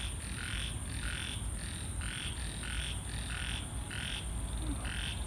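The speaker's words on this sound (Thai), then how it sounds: "ฝนตกใหม่ๆแรกๆ กบร้องเยอะมากเลย" Many frogs croak together in a wet night setting just after rain, a steady chorus of repeated, evenly pulsed calls with a continuous high insect-like whine above, close and unbroken throughout.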